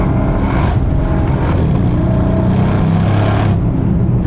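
A Bentley Continental GT with ceramic brakes accelerating hard, its engine a loud close low roar that rises and swells across a few seconds, with no talking.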